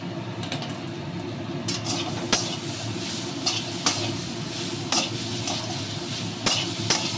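Jackfruit seed curry with spices, ghee and garam masala fries in a pan, a steady close sizzle under repeated scraping strokes of a stirring spoon, with sharper knocks against the pan every second or so.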